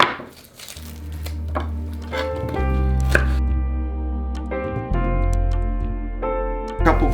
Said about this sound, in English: I'm going to take some onions, just chop them up